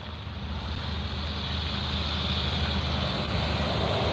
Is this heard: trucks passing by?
yes